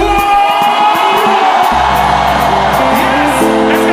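Church congregation at a Kanguka gathering in Abidjan shouting loudly, a dense, sustained crowd roar of cheers and yells filling the space continuously, with music tones running underneath.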